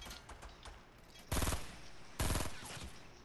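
Two loud bursts of automatic gunfire in the Fortnite battle royale game, each a rapid rattle lasting about half a second, separated by a short gap over quieter background game noise.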